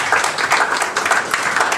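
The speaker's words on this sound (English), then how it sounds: "So please give him a round of applause." A community gathering breaks into applause for a speaker being introduced, a loud, close, continuous rattle of many hands clapping at once with no voices on top.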